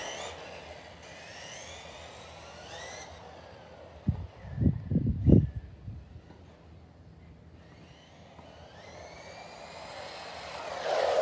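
A Tamiya DT-02 RC car with a brushed motor and a 17-tooth pinion makes a speed run, its whining motor rising and falling as it passes, with a short burst of rumbling bumps in the middle.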